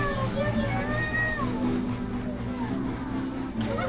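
A small kitten in Cebu City, the Philippines, gives several thin, high meows over a steady background hum, with people speaking nearby.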